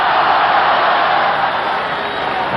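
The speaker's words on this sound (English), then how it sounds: "And look at the sellout crowd in Baltimore." A sellout baseball crowd at a World Series Game 1 between the Pirates and Orioles in Baltimore, a loud, continuous roar of thousands that holds steady throughout.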